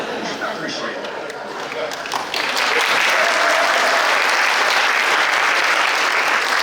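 Applause at a girls' high school soccer all-state ceremony starts thinly under a voice, then swells after a couple of seconds into loud, dense clapping from a large crowd that holds steady to the end.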